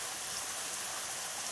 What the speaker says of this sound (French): je vous enlève de la pluie parce que c'est insupportable